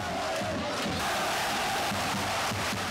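A large crowd of Japanese sports supporters cheers and chants continuously, loud and dense, with a rhythmic pulse running through the sustained roar.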